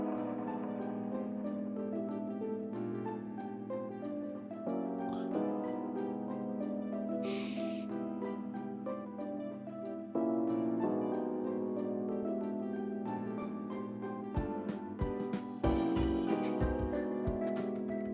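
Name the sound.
organ playing in a house music track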